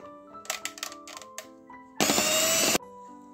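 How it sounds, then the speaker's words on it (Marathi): An electric beater whirs loudly for under a second while whipping cream for pan ice cream, after several short clicks and knocks against a bowl. "चला आता आपण याला छान असं फेटून घेऊया"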